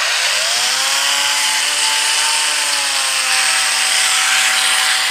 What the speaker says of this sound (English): The little drill bit works really good for us.